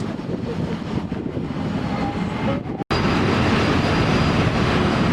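Jakarta MRT subway train running underground, a steady loud rumble with continuous rail and wheel noise throughout, briefly cut by a short dropout partway, with no talking.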